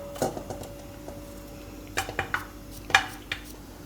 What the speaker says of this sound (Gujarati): તો કાકડી આપણે સુધારી લીધી.